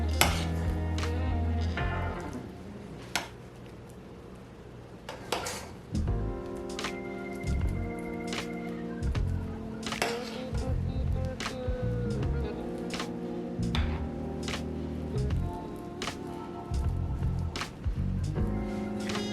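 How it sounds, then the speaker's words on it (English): Spoonfuls of mashed potato land on a meat mixture for shepherd's pie, giving repeated close clinks and soft scrapes of a spoon against the dish at an irregular rhythm, with no talk. "all we're gonna do now is just spoon this right on top of the meat mixture"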